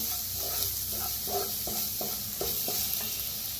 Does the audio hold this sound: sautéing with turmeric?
yes